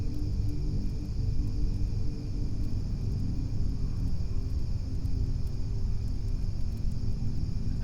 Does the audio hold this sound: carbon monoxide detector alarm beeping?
no